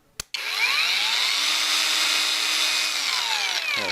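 A WOSAI cordless angle grinder clicks on and spins up to a loud, steady high-pitched whine, runs evenly without cutting, then starts to wind down at the end.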